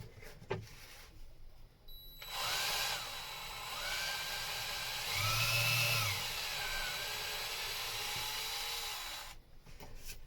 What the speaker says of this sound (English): now I can drill these two through